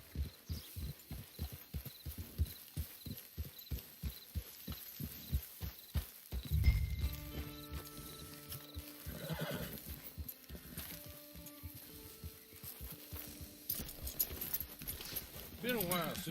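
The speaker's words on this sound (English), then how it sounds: "Get your horse." Horse hooves clip-clop in a steady rhythm, then a horse neighs and snorts, set in the video game Red Dead Online at a camp, with music and background voices over the later part.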